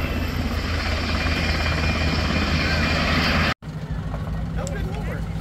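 A helicopter touches down on a landing pad at the 2023 Wings and Wheels airshow in Chickasha, Oklahoma, its loud, steady rotor and engine roar filling the scene, briefly cutting out before resuming under nearby voices.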